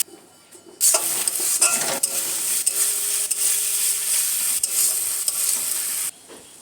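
Shrimp curry with yogurt and sugar, in a dish made with jackfruit and shrimp, is stirred in a pan: a loud sizzle bursts in after a quiet second and runs steadily with repeated metal spoon scrapes, then cuts off near the end.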